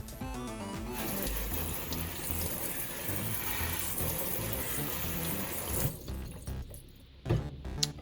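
Paintball mask washed in a sink with dish soap under a running faucet, a steady close gush of tap water that breaks into splashes and sloshing toward the end.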